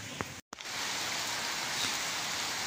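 Steady rain falls and drips outdoors on a quiet roadside spot, a constant broadband hiss with a brief dropout near the start, with no talk over it.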